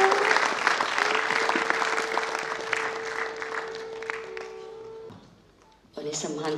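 Audience applause at the inauguration of the Kesarbai Kerkar Sangeet Samaroha music festival at Kala Academy, a dense sustained clapping crowd over a steady drone tone, fading after five seconds then briefly resuming.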